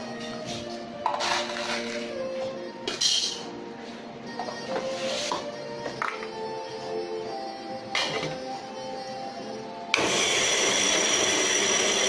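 An MD600 electric coffee grinder grinds coffee beans, its motor whirring in uneven stretches with bursts and pauses, then running at a louder steady roar from about ten seconds.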